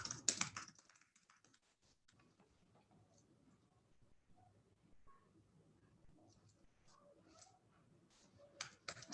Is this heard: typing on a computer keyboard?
yes